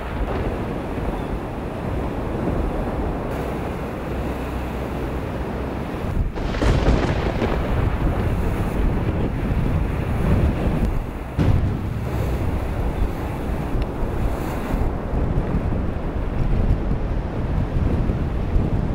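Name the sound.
thunderstorm with strong wind at sea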